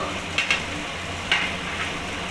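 Slit green chili frying in a pan of pumpkin, potato and eggplant with mustard and shrimp-head paste, a steady close sizzle with a couple of brief stirring scrapes and no talking.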